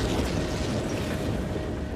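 A shell from an 88 mm artillery gun bursting close by: a dense, roaring wall of broadband noise that stays loud and sustained for the whole two seconds, with rumbling low end and no speech over it.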